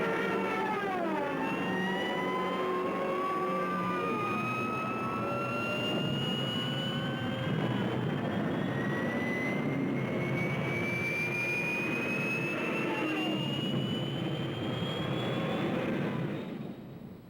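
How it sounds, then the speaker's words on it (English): Stuka dive bombers attacking in a WW2 desert battle: a loud engine roar with a long rising, siren-like whine that climbs steadily before cutting off at the end, with no voices. "Rommel sends in Stuka dive bombers to blast the defenders from their emplacements"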